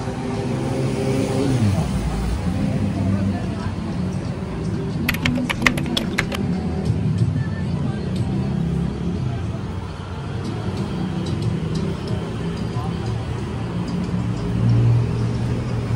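Busy night street traffic with cars and motorbikes weaving everywhere through a chaotic Asian city, a steady close rumble of engines throughout, with a brief burst of sharp clicking near the middle and voices talking under the noise.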